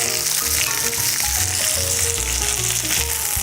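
Veal schnitzel fries in hot fat in a pan, a loud, dense, continuous sizzle with crackling pops, close up and uninterrupted.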